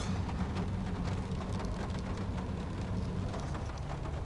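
Steady rain falling outside during a taxi shift in a city, a continuous even hiss with no voices.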